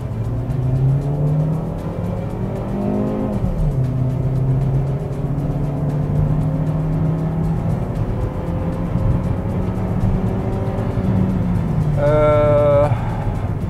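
A Hyundai Solaris engine revs and accelerates, its pitch rising and falling through several gear changes, with a higher whine near the end.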